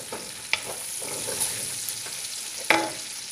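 Crushed garlic and onion frying in a pan, a steady soft sizzle with a few brief stirring clatters, close and moderately loud with no talking.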